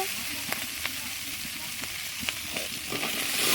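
Eggplant and potato pieces frying in a hot pan with dried fish, a continuous crackling sizzle broken by scattered spatula clicks and stirs, close and fairly quiet.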